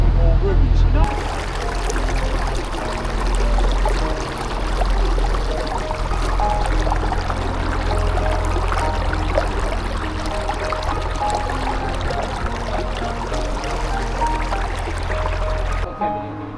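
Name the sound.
boat moving through water on a river trip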